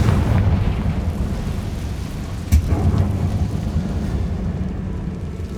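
A Confringo blasting spell bursts inside a spider-filled tomb in Hogwarts Legacy: one sharp blast cracks through a steady, rain-like rumble midway, then the deep roar carries on.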